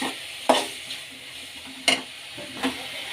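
Tomatoes cook in a pan for potato bhaji, a soft continuous sizzle broken by three sharp scraping stirs of a spoon, close up with no speech.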